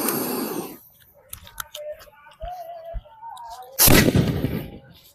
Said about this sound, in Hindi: देख लो भाई टॉप टाइगर में आग लगाते हैं।